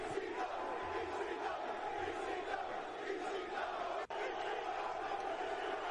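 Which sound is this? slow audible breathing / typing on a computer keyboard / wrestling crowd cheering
wrestling crowd cheering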